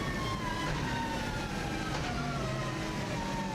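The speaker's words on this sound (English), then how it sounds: "As you can hear from this car, it does sound amazing" A turbocharged Subaru WRX STI rally car engine howls at a distance near 8,500 RPM during a TT record lap, its pitch sliding and rising through gear changes, fairly faint and continuous.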